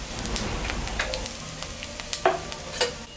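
Cumin seeds, dried chilli and bay leaves sizzling in hot oil in a pan, a soft close crackle with scattered pops and light stirring scrapes, no talking.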